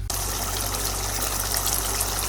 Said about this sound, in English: So now I'm going to add my tamarind pulp.